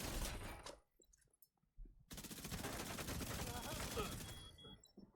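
Backfire SMG fire in The Division 2, loud rapid automatic bursts in a dense stream, broken by a short pause before a long sustained volley, with a voice talking over it.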